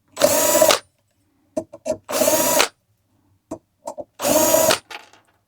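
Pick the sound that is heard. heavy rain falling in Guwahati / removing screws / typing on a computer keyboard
removing screws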